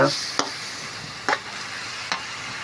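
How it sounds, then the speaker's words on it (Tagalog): Vegetables being stirred in a cooking pan, with three distinct scraping strokes over a steady low sizzle, close and moderately loud, no talking. "Haluin muna natin bago natin lagyan ng konting tubig."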